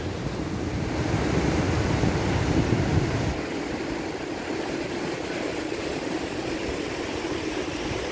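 Ocean waves break on the beach at Maspalomas, Gran Canaria, a steady loud wash of surf with wind rumble, heavier and churning in the first seconds before settling into a continuous hiss.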